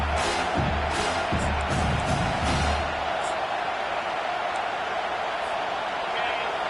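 A home crowd at a football game roars steadily through a third-down defensive stand. The sustained, loud wash of noise carries under a commentator's voice early on and continues alone afterward.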